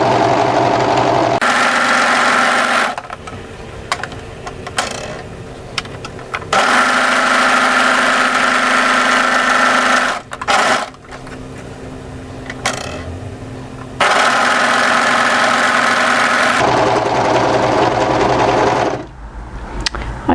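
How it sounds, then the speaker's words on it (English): Overlocker sewing machine running at speed while overlocking the hem of a waterfall drape coat, a loud close steady mechanical whir that runs in long stretches with a few short pauses and restarts. "it's a good idea now to overlock the hem in as well"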